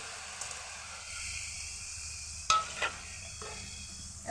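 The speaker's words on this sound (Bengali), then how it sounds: "এখন এর মধ্যে দিয়ে দিচ্ছি ছানা আর তাল মিশ্রি।" Chhana and palm sugar candy cooking in a spoonful of ghee in a pan for sandesh, a soft low sizzle with a couple of sharp spoon-against-pan clinks midway.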